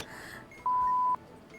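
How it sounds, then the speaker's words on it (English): A single clean electronic beep from the bomb-defusal game Keep Talking and Nobody Explodes, a steady half-second tone standing clearly above faint background noise. "It was like a single beep."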